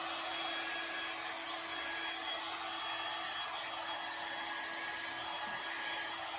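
A hair dryer blows steadily and close on acrylic paint during a Dutch pour painting session, a continuous broadband whoosh with no break from start to finish.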